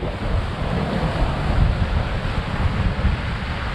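Steady wind roars across the microphone over the constant wash of choppy, whitecapped waves on open water, loud and unbroken, with no voices.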